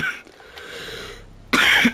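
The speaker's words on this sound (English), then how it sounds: "I hate this cough." A single harsh, loud cough bursts out close by near the end, following a stretch of quieter rustling and handling noise while a trailer is being loaded.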